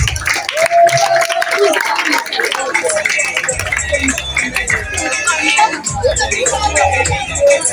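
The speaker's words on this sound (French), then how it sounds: "On l'applaudit très fort." Applause from an audience at a school award ceremony, scattered clapping mixed with cheering voices and a busy crowd, with people talking throughout.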